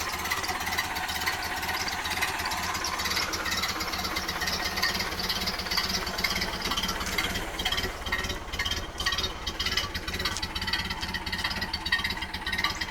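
A 1930 Ford Fordor's engine idles with a steady, close rumbling chug that continues evenly throughout without voices.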